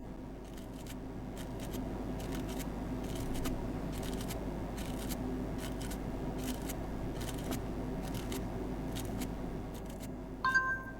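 Repeated short scraping strokes as dirt is worked out of the USB-C charging port of a Sony Xperia 10 Plus, a steady run of faint, close scratches over a low hum, with a brief sharper sound near the end.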